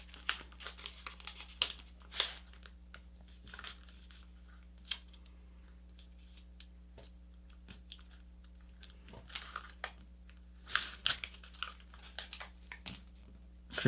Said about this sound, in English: So we're going to fold this edge here into the center.